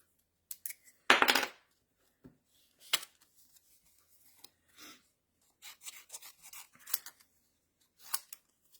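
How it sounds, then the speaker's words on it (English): Scissors snipping through paper while fussy cutting out a small paper flower for a framed occasions card, with one longer close cut followed by scattered short quiet snips and rustles. "So I'm going to fussy cut this out."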